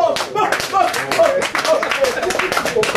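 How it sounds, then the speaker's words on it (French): An audience claps at a school ceremony honoring a teacher, a dense patter of many hands that continues throughout, close and loud, with voices mixed in. "Applaudissez pour ça."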